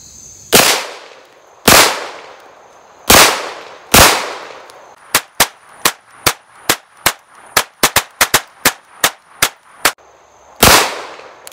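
An HK VP9 pistol fired with ETS magazines cracks loudly at close range: four spaced shots, then a fast string of roughly fourteen, then one final report, with no talking.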